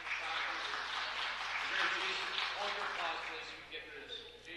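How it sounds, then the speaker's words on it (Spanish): Audience applause at a city council meeting: steady clapping from the room, moderately faint, with speech running over it. "No aplaudan, por favor, para poder terminar."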